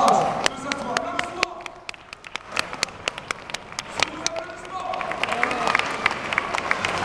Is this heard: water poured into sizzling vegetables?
no